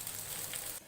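Chopped garlic sizzling in hot oil with onion in a pan while cooking a Bangladeshi taro-leaf and hilsa fish dish, a soft, steady crackling hiss that cuts off near the end.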